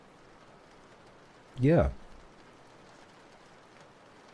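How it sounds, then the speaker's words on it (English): Steady, soft rain hisses throughout, played back from a recording, with a single brief spoken word near the start. "I'm using YouTube to play these rain sounds"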